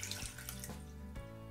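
Water pours into a small pot for simple syrup, a quiet continuous trickle with a few soft splashy surges, close and alone.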